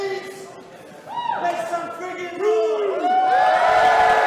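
Wrestling crowd at a West Yorkshire event cheering and whooping, with rising shouts and chants that build louder toward the end, mixed with an excited voice over the noise.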